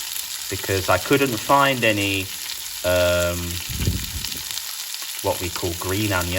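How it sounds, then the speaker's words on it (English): Plain white onion and red pepper fry in a pan for a Korean dish, giving a steady sizzle that sits mostly beneath a person talking. "You can hear the sizzling sound, right?"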